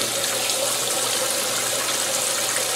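Water pours steadily into the tub of a GE Infusor GTWN5050M0WS high-efficiency top-load washing machine, a constant, even rush that runs without pause and without voices.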